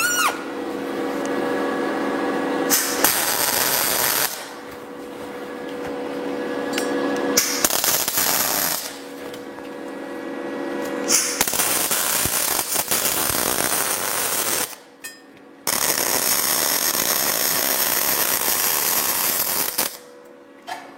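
MIG welding heavy ironwork for a garden lamp post, a harsh crackling, sizzling arc in several bursts of a few seconds each, separated by brief pauses, close and loud.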